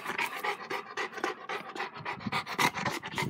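A dog pants rapidly and steadily up close, quick rhythmic breaths with no talking.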